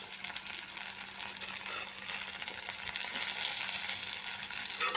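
Tomato and onion fry in a pan of oil for Maggi noodles, a steady close sizzle running throughout and growing slightly louder toward the end, with no talking.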